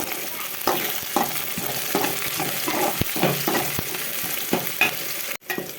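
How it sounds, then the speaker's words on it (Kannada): Cinnamon, cloves, garlic and onion roasting in oil in a pan, giving a steady sizzle broken by repeated scraping stir strokes and a brief clatter near the end, with no voices. "ಬಾಣಲಿಗೆ ಚಕ್ಕೆ ಲವಂಗ ಮತ್ತು ಬೆಳ್ಳುಳ್ಳಿ ಈರುಳ್ಳಿ ಎಣ್ಣೆ ಹಾಕಿದ್ದೆ ಅಲ್ವಾ ಚೆನ್ನಾಗಿದ್ದು ಒಂದು ಬ್ರೌನ್ ಕಲರ್ ಬರೋ ರೋಸ್ಟ್ ಮಾಡ್ಕೊಳ್ಳೋದು"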